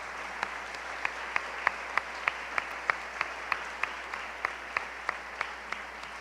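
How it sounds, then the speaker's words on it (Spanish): Church congregation clapping in a steady rhythmic beat as an offering of praise, evenly spaced claps over a quiet hall background, moderately faint. "Denle ofrenda de palmas al Señor."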